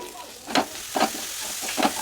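Grated carrot frying in a pan with ginger garlic paste, for carrot rice with cashews: a low steady sizzle broken by three soft stirring scrapes at even intervals, close by with no talk.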